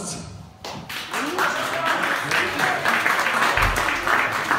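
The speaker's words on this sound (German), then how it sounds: "Und ich brauche einen riesigen Applaus für den Original von Horst!" A concert crowd at a German pop-schlager show gives loud, sustained applause, with dense clapping from many hands under a faint voice near the start, staying full and even to the end.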